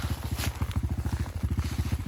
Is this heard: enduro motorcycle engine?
yes